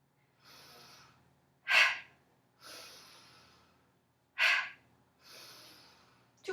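Yoga breathing in a vinyasa flow class: two cycles of a softer drawn-in breath followed by a sharp, forceful exhale through the nose, with a third breath starting at the end, close and clear with no talking.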